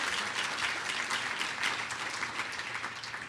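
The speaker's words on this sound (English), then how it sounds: "Yes, clap on that." Applause from the audience at a city mayor's State of the City address, a dense, steady clapping that fills the whole stretch evenly, with no speech over it.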